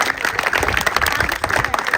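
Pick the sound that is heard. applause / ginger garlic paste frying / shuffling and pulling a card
applause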